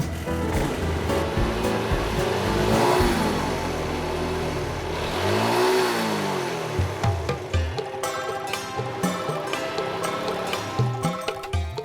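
A motorbike engine revs loudly and close by, rising and falling in pitch, then settles into a rougher idle with uneven putters.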